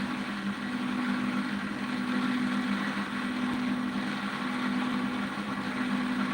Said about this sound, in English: This is a pulse motor.